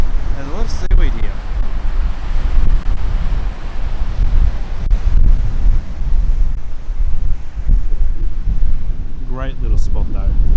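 Strong gusting wind on an exposed, unsheltered beach in Beachport, South Australia buffets the microphone with a heavy low rumble, broken briefly by a couple of faint high chirps.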